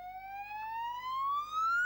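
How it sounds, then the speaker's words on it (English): A police car siren wails from some distance, a clear rising tone with strong harmonics that glides upward steadily throughout. "The flashing lights and two-tone siren that we expect when we call the police are known as blues and twos."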